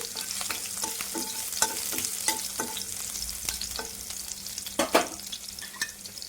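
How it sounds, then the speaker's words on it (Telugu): Chopped garlic sizzles and fries steadily in a pan while being stirred, with a continuous crackling hiss and occasional louder scraping clicks of a utensil, close and alone. "మనం కట్ చేసి పెట్టుకున్న వెల్లుల్లి అండి, ఇవి ఫ్రై చేసుకోవాలి."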